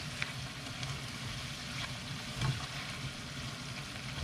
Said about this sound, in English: I'm gonna give that a stir so that not everything is in just one place